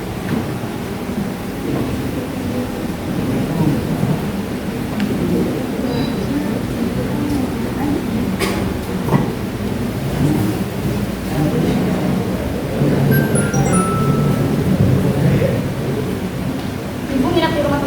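Stage thunderstorm effect with heavy rain during a high school theater play, a steady loud wash of rain with a few rumbling thunder cracks, voices faintly mixed in.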